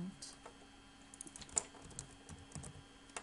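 Fingers type on a computer keyboard in irregular clusters of light clicks and taps with a few sharper keystrokes, quiet and close, with no talk and no other sound.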